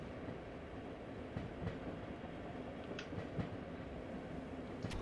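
A diesel railcar from Diesel Railcar Simulator runs along a mountain pass, heard from the rear as a steady low rumble with faint wheel clicks and occasional squeals.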